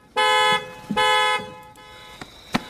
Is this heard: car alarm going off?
yes